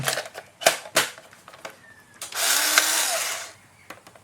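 Screws being driven into a Polaroid ONE600 camera, a few clicks and taps followed by a single second-long whir of a small power driver, close up with no talking.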